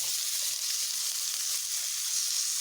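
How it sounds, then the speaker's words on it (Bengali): Pieces of pointed gourd (potol) fry in hot oil in a pan for a vegetarian dish, giving a steady, close sizzling hiss that holds even throughout without any talking. "পটলগুলোকে আমি ছেড়ে দিলাম। পটলগুলোকেও আমি এইভাবে একটু ভালোভাবে"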